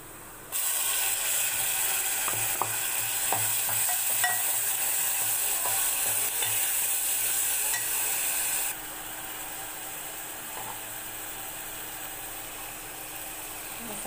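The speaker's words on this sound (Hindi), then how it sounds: "पाँच मिनट हम इसको अच्छे से भून लेंगे।" Onion, tomato and green chili fry in a pan for moong dal vadi curry, a steady close sizzle with light stirring scrapes and clinks that drops to a quieter hiss partway through.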